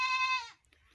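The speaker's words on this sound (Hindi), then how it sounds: "अच्छी बकरी है हमारे पास," A pure pink goat on a farm gives a single clear, close bleat lasting about half a second, alone with no talk over it.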